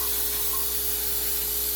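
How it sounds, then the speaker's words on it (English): A continuous, close hiss of degreaser sprayed from an aerosol can into the holes and openings of a Ford XL Falcon ute engine during a carburettor rebuild. "Oh, the degreaser. Yeah. Degreaser. Just going to spray it in all the holes And all the orifices."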